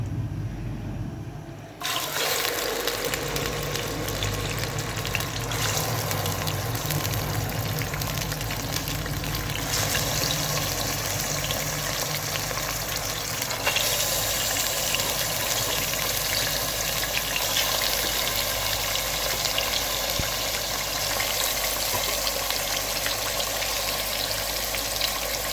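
Beef chunks frying in a generous amount of hot oil for restaurant-style karahi, a loud, dense, steady sizzling hiss that surges in after a brief quieter start and holds without pause.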